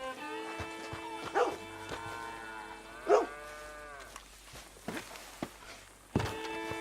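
A dog barks in short, separate bursts inside a barn in Red Dead Redemption 2, with a few loud yelps spaced several seconds apart over faint background noise.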